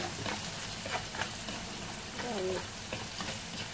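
Onion and garlic hit a frying pan already holding cinnamon bark and star anise for pork leg adobo, a soft low sizzle with light stirring scrapes, fairly faint.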